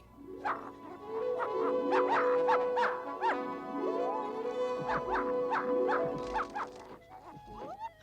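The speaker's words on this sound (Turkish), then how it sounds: "Ama bu sadece bir köpek." A cartoon dog in a Smurfs episode barks in a rapid, loud series of yips and whimpery bow-wows, continuous for most of the stretch with a short whine near the end.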